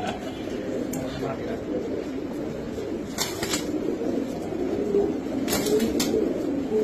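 Domestic pigeons coo softly in a loft while people talk over them nearby, the low murmuring calls steady throughout with a few sharper sounds now and then.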